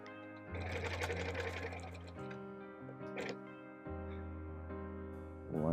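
A sewing machine stitches a quilt panel in short bursts, its motor humming loudly for about two seconds, pausing briefly, then running again in a second longer stretch, close up.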